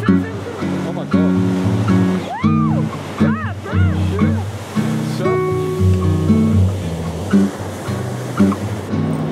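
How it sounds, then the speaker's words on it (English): Ocean waves breaking on a beach in Portugal, a continuous rushing surf beneath excited voices that talk, shout and call out over the water nearly the whole time. "Look at the waves."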